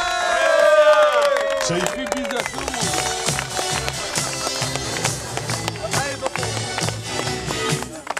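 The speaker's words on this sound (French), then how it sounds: "On peut l'applaudir bien fort, Asia." A crowd at a youth football tournament in a stadium claps and cheers loudly and continuously, with voices mixed into the noise.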